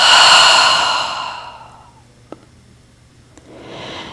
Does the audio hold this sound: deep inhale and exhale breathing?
yes